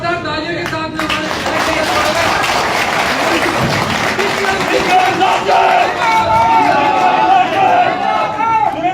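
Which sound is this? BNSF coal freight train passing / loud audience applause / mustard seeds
loud audience applause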